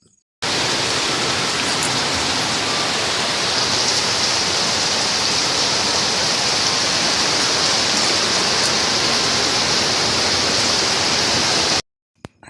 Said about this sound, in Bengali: আজ এত বৃষ্টি পড়ছে আর রাস্তায় এত জল যাচ্ছে